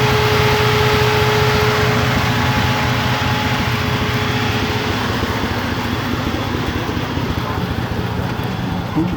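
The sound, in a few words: 1974 Chevrolet Nova six-cylinder engine running rough with a miss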